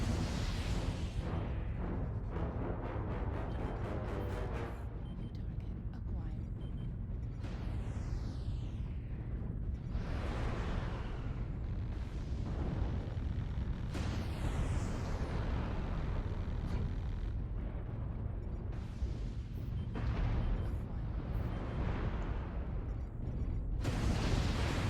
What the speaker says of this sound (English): I don't know how that ER PPC shot missed, but it did.